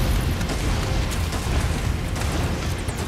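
A grenade blast in the Nioh game, a loud, sustained low rumbling boom that fills the short span at steady level.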